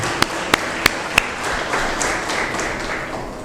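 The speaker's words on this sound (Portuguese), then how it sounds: "Vamos dar um aplauso para o Senhor Jesus." Four sharp, spaced claps open the passage, followed by softer scattered clapping from a church congregation that fades under a steady room ambience.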